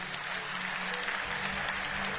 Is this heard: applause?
yes